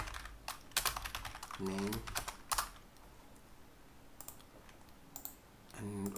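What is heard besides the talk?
typing on a computer keyboard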